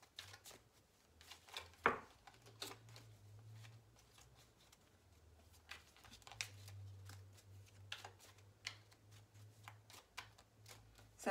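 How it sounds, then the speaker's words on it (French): Tarot cards being shuffled for a reading, with soft, quiet riffling and sliding scrapes coming in intermittent bursts, plus a few sharper taps over low background hum. "Alors, je vais mettre une carte supplémentaire."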